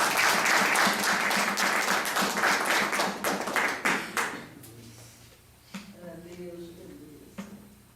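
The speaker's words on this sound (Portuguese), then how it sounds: "Vamos receber uma forte salva de palmas para o Senhor." Church congregation bursting into loud, dense applause for about four seconds, then tapering off into scattered claps as a voice begins speaking.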